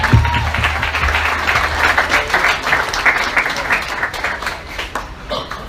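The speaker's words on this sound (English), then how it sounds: "Can we give her another round of applause?" Audience at an outdoor Narcotics Anonymous gathering on Coquina Beach in Bradenton gives a loud, sustained round of clapping that holds steady for several seconds.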